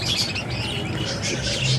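Caged parakeets chirp and twitter in a steady, busy chorus, with overlapping high calls running continuously throughout at moderate loudness.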